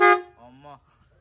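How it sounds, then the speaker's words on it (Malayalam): Vintage Jalwa horn on a restored Ambassador classic car gives a short, bright, buzzy blast, then a quieter rising tonal note, followed by near silence. "ഇത് ഇതിന്റെ ഹോണാ? ഇത് പണ്ട് കാലത്തെ ഹോണാ,"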